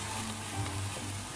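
Garlic and carrots softening in a pan for a vegetarian risotto, giving a steady, quiet sizzle that runs evenly throughout without any voices.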